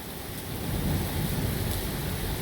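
Heavy rain from tropical storm Claudette making landfall on Dauphin Island, a dense, continuous roar of rainfall with a deep rumble beneath, steady and loud with no voices.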